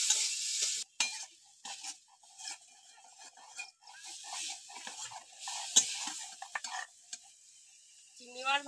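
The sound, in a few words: frying shrimp with salt and turmeric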